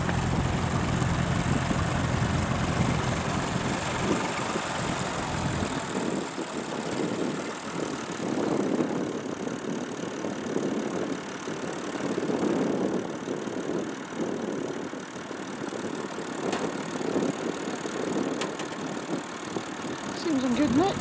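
A Leyland 253 tractor sits idling at a farming working day event in Lincolnshire, its engine producing a steady low rumble throughout under general outdoor background noise.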